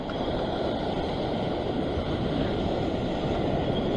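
Ocean waves wash against a rocky shoreline during sea fishing near Sydney, a steady broadband roar of surf and wind that fills the whole stretch without pause and with no voices.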